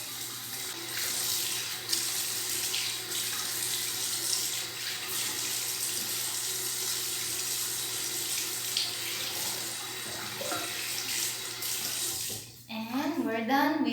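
Cold tap water runs steadily into a sink as a face is rinsed during a home facial, a continuous close hiss that lasts throughout and then breaks off near the end into a short burst of louder splashing.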